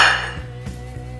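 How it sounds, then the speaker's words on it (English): A knife chops carrots into big pieces on a cutting board while preparing pumpkin soup: three evenly spaced, dull thuds, close and moderately loud, over a fading tone with no talking. "We are going to start cutting the carrots."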